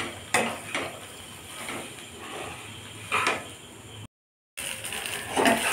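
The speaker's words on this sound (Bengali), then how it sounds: "এবার শুধু নাড়তে থাকবো, গ্যাসটাকে সামান্য বাড়িয়ে নাড়তে থাকবো।" Macaroni and spiral pasta stirred in a pan over the gas: a spoon scrapes and taps against the metal in a slow irregular rhythm of soft clinks and shuffles, close and moderately quiet, with a short silent gap.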